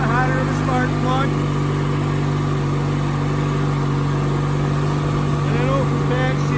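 A small Briggs and Stratton opposed twin engine, model 42270, runs steadily with a constant droning hum, close by and loud, while someone talks over it.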